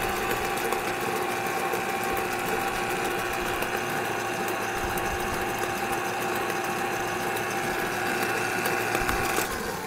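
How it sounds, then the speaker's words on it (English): An electric mixer whips cake batter in a bowl, its motor giving a steady, loud whirring drone that holds without a break from start to end. "I am going to whip this mixture just a couple more minutes"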